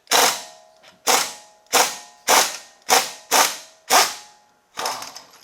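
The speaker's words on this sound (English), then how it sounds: "Again, just gently use the impact, bump it coming off." An impact wrench removing lug nuts fires in seven short, evenly spaced rattling bursts, each loud and close with a quick decay between them.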